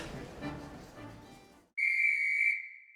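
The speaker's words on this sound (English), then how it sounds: "Oh, that whistle." A steam-train-style departure whistle blasts loud and steady for about a second, a single sustained high tone that cuts in abruptly after a stretch of chatty voices.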